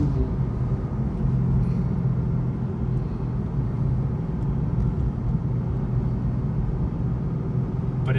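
A 2015 BMW M4 driving along back roads, its low engine and road rumble steady and continuous throughout from inside the car, with no talking.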